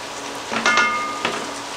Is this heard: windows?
no